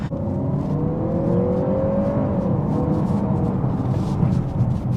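A Peugeot 508 Hybrid4 360 GT pulls hard from inside the cabin, a steady engine drone with one rising tone sweeping up over a couple of seconds, loud and continuous without speech.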